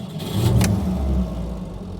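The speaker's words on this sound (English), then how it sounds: "Right, start the engine." Petrol engine of an early Peugeot 504 pickup, a barn-find survivor, starting with a short burst and then running at a steady low rumble, close and fairly loud with no talk.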